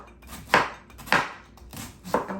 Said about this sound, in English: And we're just going to slice it kind of thin.